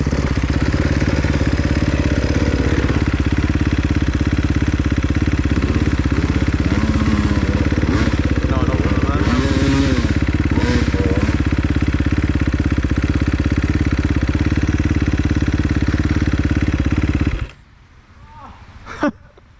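An enduro dirt bike engine drones loudly and continuously on a slippery woodland trail, revving and idling with clattering over the terrain, then cuts out abruptly near the end, leaving quiet with a faint bump.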